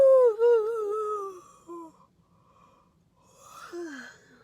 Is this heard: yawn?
yes